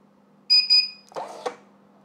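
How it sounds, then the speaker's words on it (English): An XPrinter XP-365B label printer gives two short, high electronic beeps close up, followed by a brief mechanical clatter and click from the printer. "Keep the pause button pressed until it beeps."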